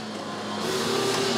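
Kids' electric ride-on toy car pulling forward under power, a steady close motor whine that rises slightly in pitch over a brief moment.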